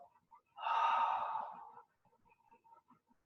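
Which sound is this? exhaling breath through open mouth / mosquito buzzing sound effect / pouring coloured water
exhaling breath through open mouth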